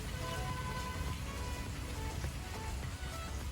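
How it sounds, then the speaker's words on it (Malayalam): Steady, dense rainfall patters continuously on a surface, a constant wash of drops with no voices. "നല്ല മഴയാണ്, നല്ല രസമുണ്ട്."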